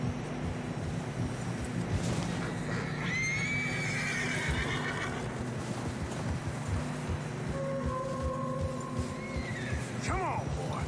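Horses in the snowy Red Dead Redemption 2 game world give whinnies and neighs over a steady bed of game ambience and wind, with occasional hoof clops and a voice speaking partway through.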